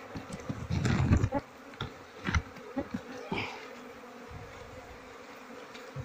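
A swarm of bees buzzes around a honey-filled comb from a queenless colony, a steady close drone with a few louder bumps and rustles early on that fade into quieter humming.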